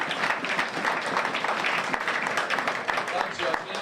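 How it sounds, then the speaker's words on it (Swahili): Church audience on Easter Sunday applauding steadily throughout, a dense, continuous wash of many hands clapping at moderate volume with no pauses. "kwa makofi tena"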